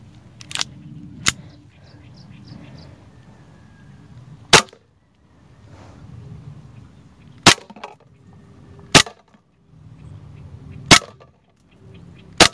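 WE Hi-Capa Dragon 7.1 airsoft pistol firing at a Spam can: six sharp, loud snapping shots spaced a second or more apart, with low murmuring voices and faint rustling between them.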